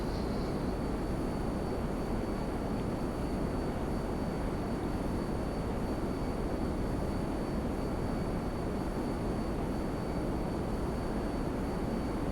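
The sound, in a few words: fighter plane flying in GTA 5 Online video game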